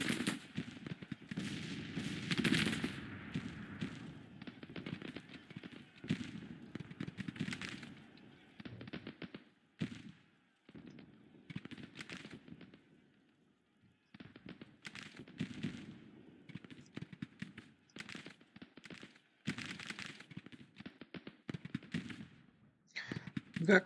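Mountain rifles fire on artillery batteries in a Grand Tactician Civil War battle near Bull Run, a dense crackle of scattered gunshots and volleys that swells and fades in bursts, with brief lulls between.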